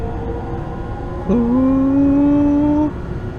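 A Seoul subway train accelerates in a train simulator game. Its electric motor whine kicks in abruptly and climbs steadily in pitch for about a second and a half, then drops away over a constant low rumble.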